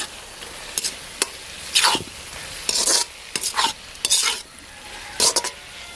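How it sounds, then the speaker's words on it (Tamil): Onion, capsicum and green chillies for chilli chicken sauté in a hot pan with a steady sizzle, broken by repeated scraping stirs of a spatula against the pan. The sound is close and continuous, with no talking. "இப்போ இந்த மிளகாயும் அது கூட போட்டு நல்லா வதக்கலாம்."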